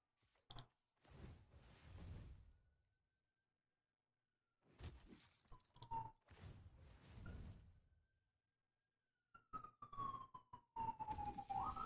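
A police car siren sweeps past outside, its rising and falling wail sounding in short faint bursts between quiet gaps, with a few sharp knocks nearby.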